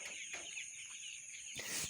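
Colour bird chickens cluck on a poultry farm, a few short calls standing out over a steady, constant background hum.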